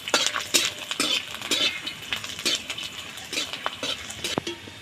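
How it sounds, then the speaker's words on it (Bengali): Garlic frying in a pan with dried red chillies, a steady close sizzle with busy scraping and clinks from a spoon stirring against the pan, with no talking. "লাল করে ভেজে নিচ্ছি আমি।"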